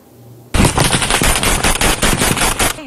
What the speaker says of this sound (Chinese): 乌克兰士兵卯起来开枪，因为不远处正有瓦格纳佣兵步步进逼。